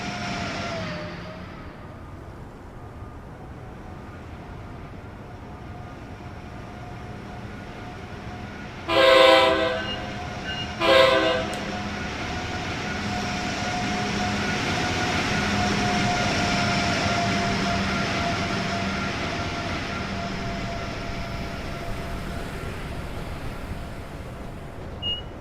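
A New Jersey Transit train in Train Sim World 3 rolls slowly past under a steady low rumble, with two short horn blasts near the middle; the rumble swells gently afterward and no one speaks.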